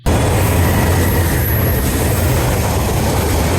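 A heavy train thunders past on a railway track over ballast, loud and close with a dense continuous rumble and metallic rolling roar that holds steady throughout, with a brief high wheel squeal.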